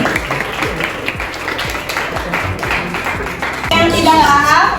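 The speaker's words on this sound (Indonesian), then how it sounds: "beri tepuk tangannya dulu" A classroom of students claps during a microteaching lesson, a close, fairly loud patter of clapping, and near the end someone begins speaking over it.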